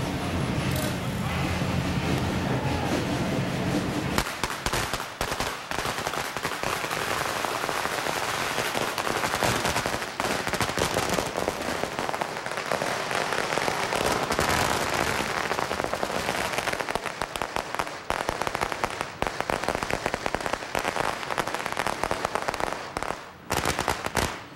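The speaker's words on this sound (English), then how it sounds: "We're going to get blasted away by more firecrackers." Firecrackers explode in dense, continuous, crackling bursts at a Chinese New Year parade in San Francisco, very loud and close, going on for the whole stretch amid street noise and voices of the crowd.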